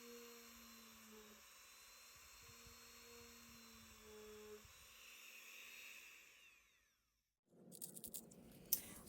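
A small high-pitched rotary drill whines steadily while drilling polymer clay beads, its pitch shifting as it works, then cuts off into silence before some handling noise.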